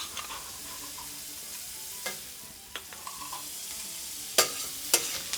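Asparagus and onions sautéing in melted butter in a pan, with a steady soft sizzle broken by a few sharp clicks and scrapes of a stirring utensil, close and fairly quiet with no talking.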